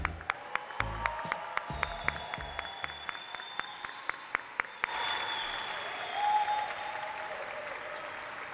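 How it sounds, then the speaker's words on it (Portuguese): Applause at a solemn award session in a legislative chamber, sharp individual claps ringing out at first, then a broad, even wash of crowd clapping with faint cheering. "Uma salva de palmas para a Ludmilla."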